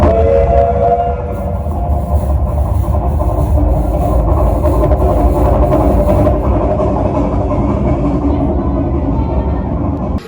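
Ghost Train ride at Thorpe Park, a loud continuous rumble of a rolling ride vehicle with low mechanical drone and faint rhythmic clatter, tonal squeal at the start, no talking.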